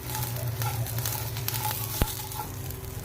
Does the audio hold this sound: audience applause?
no